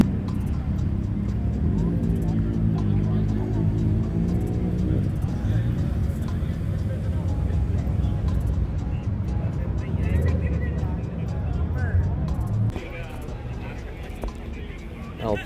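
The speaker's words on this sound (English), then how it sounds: "Okay, so I think it was this Lamborghini. It's an Aventador" Engine of a red Lamborghini Aventador LP700 at an evening car meet, a low throbbing rumble that holds steady and then drops away near the end, heard beneath continuous nearby conversation.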